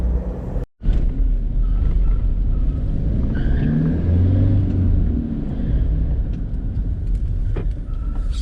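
A Toyota Fortuner diesel 4x4 with a manual gearbox drives with a steady low engine drone and road rumble, a brief cutout near the start, then a faint blip of revs as it changes gear, heard from inside the cabin.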